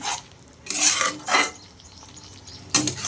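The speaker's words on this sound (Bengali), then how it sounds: "এটাকে একটুখানি মিশিয়ে দেব ভালো করে সব কিছুর সঙ্গে" A spoon stirs fish curry with coriander leaves and garam masala in a metal pot, scraping and clinking in a few close, separate bursts with quieter pauses between them.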